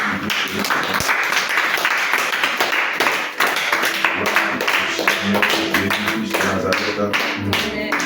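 A church congregation applauds and acclaims the Lord during a sermon, with steady loud clapping sustained throughout, mixed with voices cheering.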